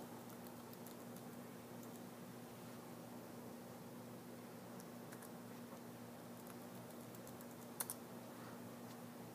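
Someone types a password on a computer keyboard, giving faint, quick key taps over a low steady hum. No one speaks.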